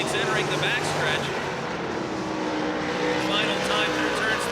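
Race cars circle the oval at Pennsylvania Motor Speedway in Pittsburgh during the closing laps, a loud, steady engine roar that swells slightly, with a faint voice beneath it.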